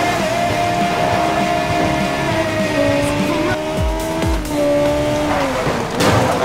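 A racing car engine in the Need for Speed Most Wanted video game revs and shifts through gears at close range, with tire squeals and passing whooshes, while someone talks over it.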